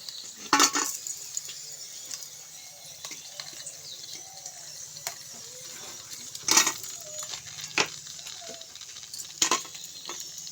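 Wheat-flour biscuits fry in a pan on a stove and are stirred, with sharp metal spatula clinks and scrapes over a faint, steady sizzle.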